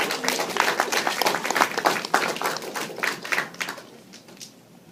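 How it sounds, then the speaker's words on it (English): A live audience claps in a burst of applause with loud, crisp individual claps, thinning and fading out toward the end. "Round of applause, come on."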